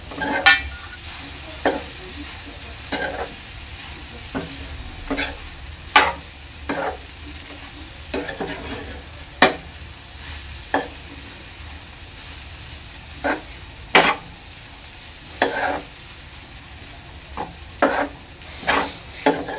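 Bhakri chaat, made with pieces of bhakri, is stirred and mixed in a pan over a gentle sizzle, with a steady run of sharp spoon scrapes and taps against the metal coming at an uneven rhythm.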